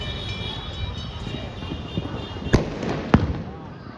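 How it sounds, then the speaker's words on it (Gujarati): Firecrackers bursting outdoors in Surat on a festive Sunday: two sharp, loud cracks a fraction of a second apart over a steady hum of background noise and scattered murmurs. "જો હજી ફટાકડા ફૂટે."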